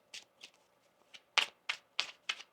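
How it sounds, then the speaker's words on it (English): A deck of tarot cards being shuffled: seven crisp, separate riffling bursts at an uneven pace, close and fairly quiet, with no talking. "One more shuffle."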